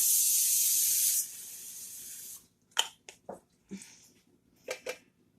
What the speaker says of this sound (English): I'm going to spray my pan with some vegetable oil